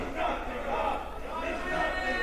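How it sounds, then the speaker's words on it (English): Arena crowd at an American Wrestling Association match shouting and jeering angrily in a continuous loud roar, rising and falling in waves throughout. "And the crowd is livid here."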